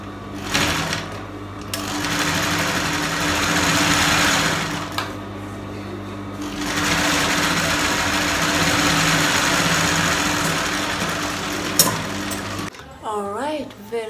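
Sewing machine running an understitch along a skirt lining seam, a close steady mechanical hum in long continuous runs with brief pauses, ending with a few quiet handling sounds.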